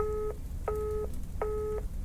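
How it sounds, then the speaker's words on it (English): Telephone dialing tones in the video game Lake: three identical electronic beeps, each about a third of a second long, evenly spaced over a quiet hum. "Beep, beep."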